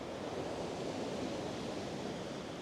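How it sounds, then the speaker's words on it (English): Sea waves washing onto the beach at Blackpool Sands, a steady, even roar of surf that holds at one level throughout, with no voices. "Or the waves, shall I say."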